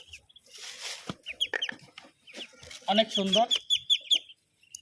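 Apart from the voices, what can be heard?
Chinese ducklings peeping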